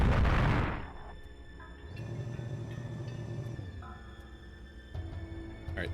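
A plasma cannon fires in the space combat game Colony Wars Vengeance: a loud burst opens, then a sustained electronic hum and rumble with steady tones, and a fresh pulse near the end.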